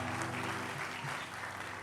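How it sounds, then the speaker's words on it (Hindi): Audience at a youth club national convention claps together in a brief, steady patter of applause, heard fairly faintly with a low hum underneath. "आप तो तालियां बजा दो एक बार"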